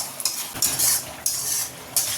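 Spice masala being stirred and fried in a pan for a vegetable curry, with bursts of sizzling and metal utensil scrapes against the pan coming in uneven strokes, close by and without speech.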